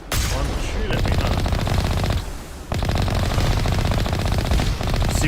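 Rapid automatic gunfire from enemies shooting at the Mako armored vehicle in the Mass Effect Legendary Edition video game, loud, dense bursts nearly continuous with a short lull midway, a voice talking over it.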